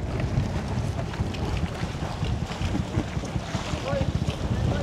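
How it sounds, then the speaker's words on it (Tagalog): A small passenger boat crosses rough, choppy sea off Isla de Gigantes in strong wind, with heavy wind buffeting the microphone, engine rumble and splashing waves pounding irregularly. Voices are faintly heard. "Medyo malakas yung alon ngayon kasi medyo mahangin nga."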